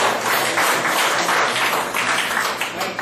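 The audience at a constitutional court student debate claps for a speaker, producing a continuous, busy patter of many hands that stays strong and even throughout.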